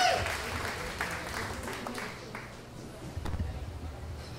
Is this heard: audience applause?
yes